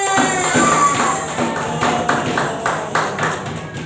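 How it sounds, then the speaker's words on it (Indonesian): Classroom of children clapping for classmates after a letter-wheel game on vowels and consonants, a steady patter of small hands that carries on throughout at moderate loudness. "Tepuk tangan buat semuanya"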